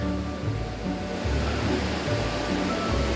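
Waterfall at Cherrapunji, Meghalaya with reduced pre-monsoon flow: a loud, steady broadband rush of falling water fills the whole stretch, close and unbroken.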